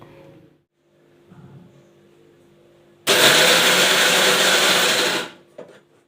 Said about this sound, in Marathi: तर अशा पद्धतीने मी मिक्सरच्या भांड्यात टाकून आणि छानपैकी इथे आता करून घेणार आहे